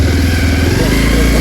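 A motorcycle engine runs loud and close, a rough, rapid putter that settles into a steady drone over a short span.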